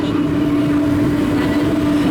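A New York subway train rolling past at a transit museum parade of trains, a loud, steady rumble with a sustained low hum, continuous and close throughout.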